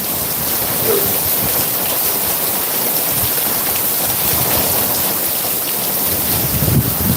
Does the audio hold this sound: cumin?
no